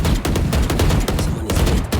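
Rapid bursts of video game gunfire crackle almost without pause, a dense fusillade of overlapping shots and machine-gun fire that stays loud and close throughout.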